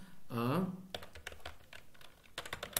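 Quick bursts of typing on a computer keyboard during an AWS cloud computing tutorial, with a brief spoken syllable at the start followed by irregular clusters of close, crisp key clicks.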